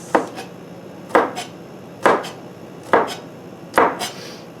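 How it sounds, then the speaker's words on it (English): A knife minces garlic cloves on a cutting board in five evenly spaced, close, crisp chopping bursts, each a quick double tap, with no voices present. "then I just use my knife kind of fast to mince"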